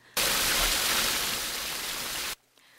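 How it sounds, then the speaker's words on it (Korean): Clear water rushing steadily down Suseong-dong Valley, an urban mountain stream below Inwangsan in Seoul swollen after rain; a loud, continuous broadband roar for over two seconds that then drops away abruptly. "계곡은 어김없이 맑고 아름다운 물소리를 내며 흐릅니다."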